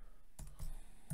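A few faint, quick clicks of keys on a computer keyboard as someone types, close and soft in an otherwise quiet room.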